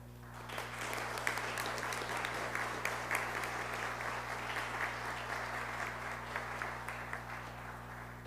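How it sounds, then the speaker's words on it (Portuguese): Applause at a formal honorary citizenship ceremony in a municipal chamber in Ribeirão Preto, Brazil, steady clapping from a moderate crowd heard at a distance over a constant electrical hum. "nós temos que efetivamente aplaudir a iniciativa do vereador Bebé, aplaudir a Câmara Municipal de Ribeirão Preto"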